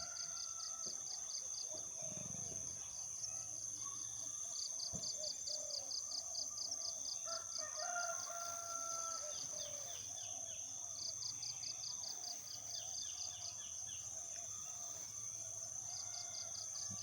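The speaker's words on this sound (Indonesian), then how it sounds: "Suarane apa iku manuk-manuk yamene ngoceh-ngoceh" Birds chirping outdoors in a backyard garden with a starfruit tree, faint small calls and twitters scattered through a steady high insect or cricket drone, quiet and distant overall.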